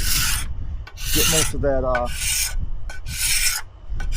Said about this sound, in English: I'm just gonna hit it with the card scraper